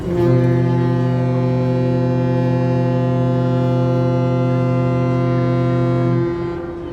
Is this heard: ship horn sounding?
yes